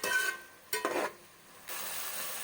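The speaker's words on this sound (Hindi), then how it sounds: "इसके बाद इसको अच्छी तरह से मिक्स कर लीजिए" Shan Bombay biryani masala is stirred into oil in a pan for chicken biryani. Short bursts of scraping and sizzling are separated by quieter gaps, then settle into a soft, steady hiss, close by with no voices.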